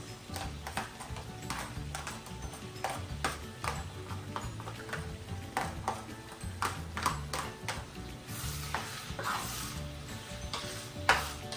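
A large batch of onions sautéing in a pan for chicken pastil, with a steady soft sizzle under frequent sharp ticks of a utensil against the pan, close and fairly quiet.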